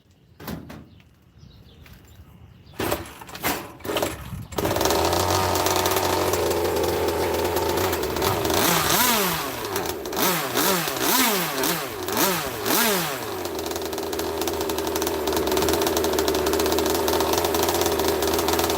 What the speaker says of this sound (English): Oh, I hit the throttle.